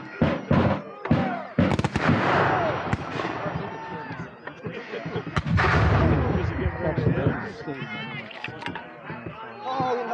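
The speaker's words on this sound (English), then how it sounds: "Go ahead and fire, Chris." Musket volleys crack out at a historical battle reenactment, several loud sharp shots in bursts with booming echoes, while people shout commands and talk throughout.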